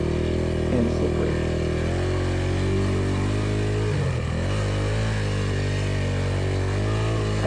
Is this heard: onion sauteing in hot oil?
no